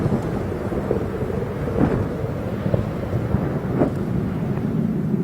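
Space Shuttle Atlantis's rocket engines roar during launch as a deep, rumbling, crackling noise that holds steady and fills the whole stretch.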